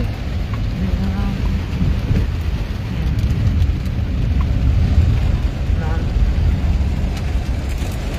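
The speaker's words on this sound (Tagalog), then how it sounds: "Ay, grabe, ang lakas ng ulan." Steady heavy rain roars across the whole clip at a cemetery, a dense wash of noise with a low rumble underneath and faint voices in the background.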